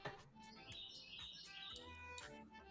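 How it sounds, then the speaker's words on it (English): A bird chirps and tweets in a short, quick run of bright calls, faint and slightly distant, with no talking over it. "Ooh, you hear that bird?"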